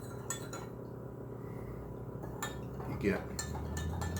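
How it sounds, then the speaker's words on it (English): Liquid being stirred in a glass measuring cup, with clinks of a spoon against the glass and a brief swirl, close and quiet, as a person talks briefly. "Now, we stir both of these."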